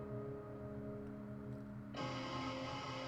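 A recorded drum track plays back, dense and busy with a steady hum of tones, then jumps abruptly to a brighter, shifted pitch partway through as the transposition kicks in; faint and without talk.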